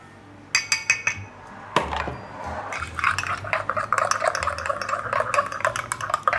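A spoon stirs Ovaltine chocolate powder and powdered creamer in a glass to dissolve them, giving a rapid run of bright clinking taps against the glass that starts sparse and becomes a steady, close, continuous rattle.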